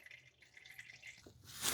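Transfer case fluid drips as it drains from a Toyota Tundra, making a faint, close dripping patter that ends in a brief louder splash.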